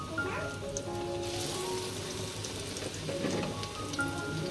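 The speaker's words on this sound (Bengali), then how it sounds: "দেখো এখন বেগুনিগুলো ভেজে নেব সুন্দর করে।" Beguni, eggplant fritters, frying in hot oil, a steady crackling sizzle that holds throughout with light pops, close and continuous.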